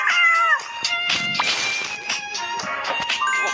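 A cat meows close by, with a clear drawn-out call at the start and further short mewing sounds over a bustle of household noise.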